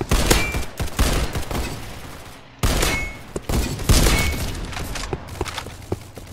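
Rapid bursts of sniper and other gunfire in a video game, loud and close, with dense overlapping shots that briefly drop out before resuming.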